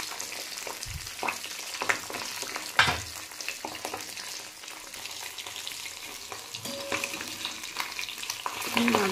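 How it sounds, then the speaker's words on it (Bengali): Pabda fish frying two at a time in hot oil in a pan for a tomato fish curry, a steady close sizzle with occasional spits and sharper pops, and clatter as the pieces are turned. "মাছগুলো এপিট ওপিট করে ভালো করে ভেজে নিচ্ছি।"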